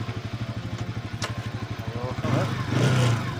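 A vehicle engine idles in neutral with a steady rhythmic chug, then revs up louder near the end, close and mechanical, with no talking.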